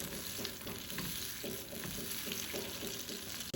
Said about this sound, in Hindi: बटर को मेल्ट होने दें।